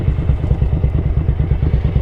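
A Ducati 900SS bevel-drive motorcycle engine idles close by with a loud, steady, lumpy low throb and mechanical clatter.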